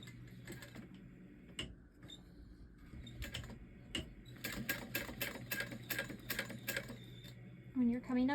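A domestic sewing machine top stitching fabric for a book cover, running in short bursts of rapid mechanical ticking with pauses between, close and fairly quiet, with a brief voice near the end.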